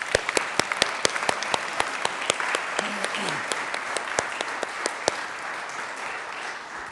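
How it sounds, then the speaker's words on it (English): Applause fills the Colorado Senate chamber, a steady wash of many hands clapping with sharp individual claps standing out, sustained for the full stretch and fading slightly toward the end. "let's give them another round of applause first"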